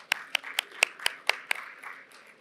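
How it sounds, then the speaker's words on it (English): A single pair of hands claps for a startup presenter at an African agritech event, seven crisp evenly spaced claps close by, then a faint trailing patter. "A round of applause for her."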